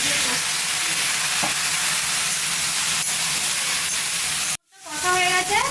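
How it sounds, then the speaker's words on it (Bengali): Potatoes and figs stir-fried with spices in a pan for an Indian Bengali dish give a steady close sizzle and stirring that stops abruptly near the end, then resumes softly with bubbling. "এর মধ্যে ডুমুর আর আলুটা দিয়ে দেবো, দিয়ে ভালো করে কষবো"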